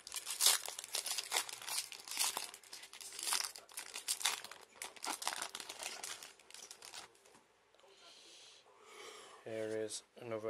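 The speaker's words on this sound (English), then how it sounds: "I might even open up a few other packs I have" A Pokémon Shining Fates booster pack's foil wrapper is crinkled and torn open up close, with loud rustling crackles that stop near the end, when a short burst of voice is heard.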